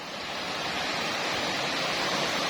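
Rushing water from a clear stream and waterfall beside a land plot at Khlong Ma Duea, Nakhon Nayok, forms a steady, close, broadband roar with no voices.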